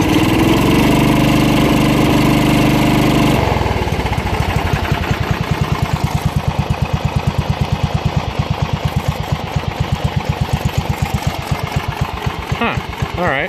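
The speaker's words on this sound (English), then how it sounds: "She idles good. Let's give her some gas." A lawn mower engine idles loudly, then the throttle opens and it revs into a fast, steady, pulsing chug that runs on close up and dominates, with a voice briefly heard at the start.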